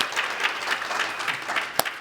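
An audience at a radio industry conference claps in a short burst of scattered, moderately loud applause, with one sharper clap standing out near the end.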